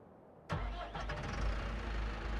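A farm tractor engine in Farming Simulator 25 kicks in abruptly after a brief near-silence, then settles into a steady, close, low mechanical rumble with no talk.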